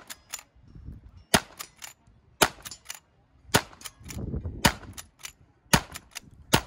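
Rifle shots at long-range targets in a cowboy action shooting match, a series of sharp cracks in close pairs with lever-action clatter and metallic clinks between shots.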